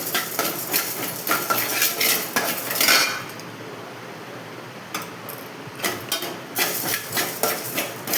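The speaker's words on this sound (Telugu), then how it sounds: "ఇలాగ ఫ్రై చేసుకుందాం" A metal spoon stirs spices in a pan for country chicken curry, scraping and clinking rhythmically against the metal, pausing briefly midway and then resuming, close with no talk.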